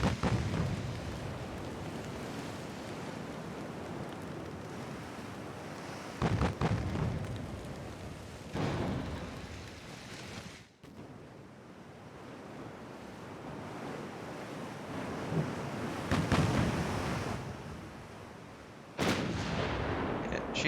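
Warship gunfire in the Ultimate Admiral Dreadnoughts naval video game, heavy booming shots rising from a constant roar of sea and wind, with a handful of blasts spaced several seconds apart.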